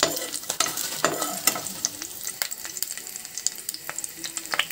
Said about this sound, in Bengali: ফার্স্টে আমি রসুন কুচি দিয়ে দিলাম, তো রসুনটাকে হালকা ফ্রাই করে নেব ফার্স্টে